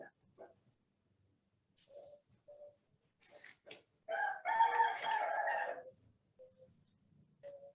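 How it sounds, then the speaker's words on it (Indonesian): A rooster crows once, long and clear at moderate distance, with a few short clucks and faint fowl sounds before and after amid otherwise quiet surroundings. "Itu ada suara ayam, berarti udah ada yang on mic loh."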